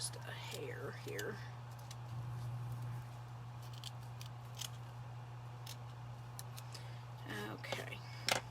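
Scissors snip through buffalo plaid fabric for a heart-shaped craft, with several quiet crisp cuts spread across the clip over a steady low hum and faint background voices.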